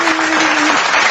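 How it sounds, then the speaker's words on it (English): A short burst of canned applause triggered from a soundboard button, a loud, dense crowd clapping that lasts about a second with a faint tone underneath. "So we'll hit the applause button."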